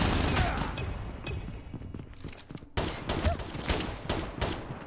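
MSMC submachine gun firing in Call of Duty Mobile on the Space Station map: fast automatic bursts, close and steady, with a short lull midway before another dense run of shots, faint voices in the background.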